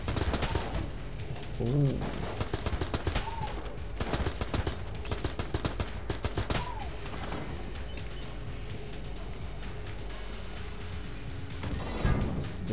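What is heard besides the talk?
AK assault rifle gunfire in Enter the Gungeon video game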